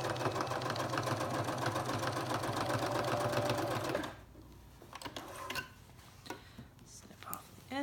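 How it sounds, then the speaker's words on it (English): A sewing machine runs steadily, stitching down recycled denim for a coaster, its dense rapid whir filling the first half before cutting off into quiet handling noises and faint movement. "And you're going to sew that down."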